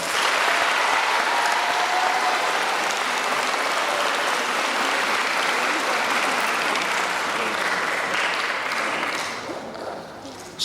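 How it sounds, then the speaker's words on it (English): Audience applause at a middle school graduation ceremony, a broad, continuous roar of many hands that holds steady for about nine seconds before tapering off near the end. "Now, you may please give them a round of applause."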